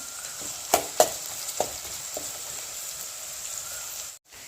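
Dried chillies and curry leaves sizzle and crackle in hot oil for a vazhuthana masala, a steady frying hiss broken by a few sharp pops near the start, with no voices.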